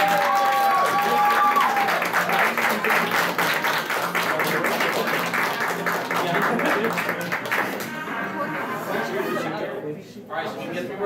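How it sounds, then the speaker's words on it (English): An audience at an anime convention game show claps loudly and steadily, with crowd chatter and voices mixed in, before the applause fades out near the end. "Give a round of applause one more time."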